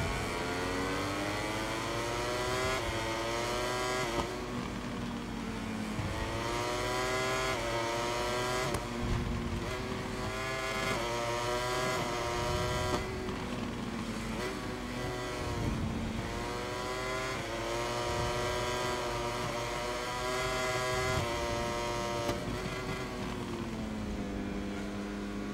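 Racing motorcycle engines scream continuously in MotoGP 22, a dense whine rising and falling with shifts and throttle as bikes run close together through the race.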